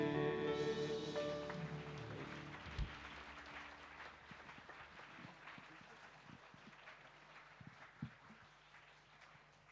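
A church congregation applauds after a worship song as the last sustained music fades out, then hand claps fill the room, steady and reverberant before gradually thinning toward the end.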